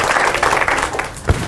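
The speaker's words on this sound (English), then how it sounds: "Can we give Ada another round of applause?" A crowd gathered for a meet-the-author event claps for Ada in a brief, fairly loud patter of applause, with a single sharp thump near the end.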